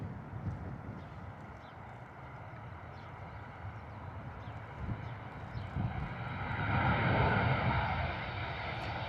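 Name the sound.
Ryanair airliner landing at Bristol Airport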